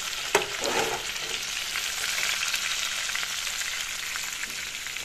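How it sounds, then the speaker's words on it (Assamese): Chicken for a mango chicken curry stirred while frying in a pan: a sharp utensil clank near the start, then a continuous close sizzle with scraping stirs, no voices. "এয়া মাংসখিনি মই এনেদৰে লৰাই দিছোঁ"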